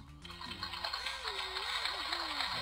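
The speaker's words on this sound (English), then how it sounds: "It's a flushing fucking toilet!" A toilet flush sound effect rushes and gurgles steadily with water noise, played under a voice as he talks during a Mario vs. Donkey Kong game stream.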